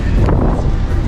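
Wind buffeting the microphone on a windy mountain hiking trail, a steady loud low rumble with brief gusts.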